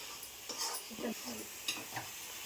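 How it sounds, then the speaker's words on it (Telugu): Chicken frying in a pan in a home kitchen: a quiet, steady sizzle broken by a few scraping stirs and light ticks, heard close. "చికెన్ ఫ్రై చేస్తుంది"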